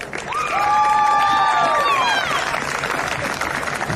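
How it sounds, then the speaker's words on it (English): A football crowd at the Sapphire Cup final, APIA Leichhardt FC against Mt Druitt Town Rangers FC, applauds and cheers for the runners-up captain, steady clapping throughout with a loud public-address voice ringing over it. "A round of applause again for the veteran, please"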